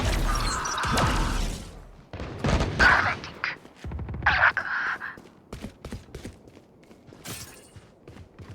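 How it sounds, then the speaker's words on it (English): Game sounds from Valorant, including a thrown grenade, bursts of gunfire, crashes and footsteps, sound sharp and intermittent, with a voice talking between them. "Grenade out."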